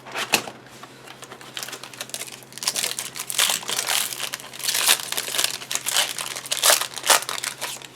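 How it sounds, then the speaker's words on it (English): Force of Will trading card packs are torn open, with loud, close crinkling and crackling of foil wrappers in continuous bursts over a low steady hum. "these packs were super easy to open"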